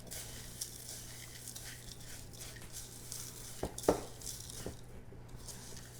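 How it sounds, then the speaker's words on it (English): Corn flakes coated in melted butter are tossed and stirred in a dish for a cheesy potato casserole topping, giving soft, scattered rustling and scraping with a sharper clink near the middle, quiet and without talk. "put the melted butter on those. Toss it around."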